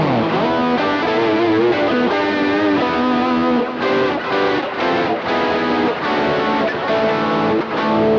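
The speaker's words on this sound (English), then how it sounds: "putting the harmonizer before the distortion is weird" Variax guitar played through a harmonizer placed before distortion, giving thick, saturated stacked-pitch chords with a polyphonic, synth-like edge, loud and sustained with several chord changes and short gaps between strums.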